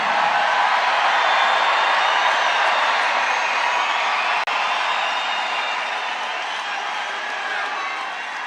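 At a Donald Trump campaign rally in Atlanta, a large crowd cheers in a dense, continuous roar of voices that holds steady and loud from start to finish.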